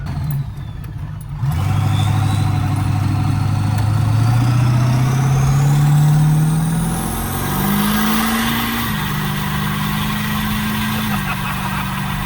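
A built OBS Ford 7.3 diesel pickup with a manual valve body 4R100 transmission roars as it accelerates, a loud deep engine drone climbing through the gears in rising steps and staying close and steady with no talk.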